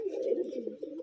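A female Gerebaz pigeon from Rajshahi coos in a steady, low, throaty rolling murmur, close by and continuous for about a second, with no talk over it.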